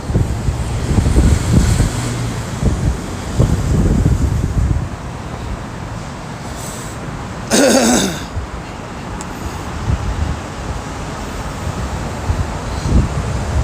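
Wind blows outdoors on a cold day, a steady low rumbling roar buffeting the microphone, stronger at first and then easing to a constant background.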